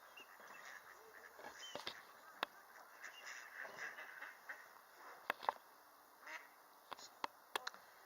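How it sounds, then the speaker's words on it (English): A common pond duck quacks in short, scattered calls outdoors, moderately close, with a few sharper louder quacks standing out against quiet background ambience and no talking. "here we have the extremely common pond duck"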